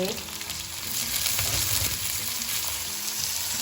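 Garlic, onions and bean sprouts frying in hot oil, a loud, continuous close sizzle that swells as the vegetables go in, with light stirring scrapes underneath.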